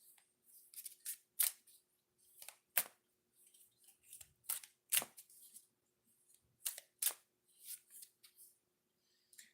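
Oracle cards are shuffled by hand, a series of crisp riffling bursts and sharp flicks in an irregular rhythm, close and fairly quiet with near-silent gaps between.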